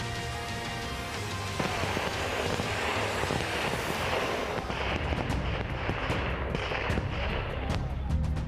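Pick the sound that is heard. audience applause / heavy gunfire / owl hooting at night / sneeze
heavy gunfire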